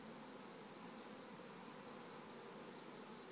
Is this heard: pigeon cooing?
no